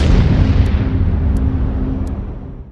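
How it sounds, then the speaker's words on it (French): A deep, loud atomic bomb explosion sound effect that opens with a heavy blast, then rumbles and slowly fades away with no talking. "Voilà la bombe atomique."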